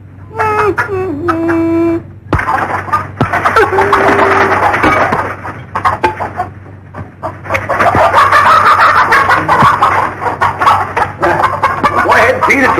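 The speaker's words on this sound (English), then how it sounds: "Well, feed the chicken." Clucking chicken from the 1952 film Jack and the Beanstalk: busy, close clucks and squawks fill much of the scene, mixed with people talking and background music.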